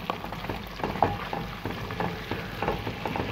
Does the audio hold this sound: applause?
no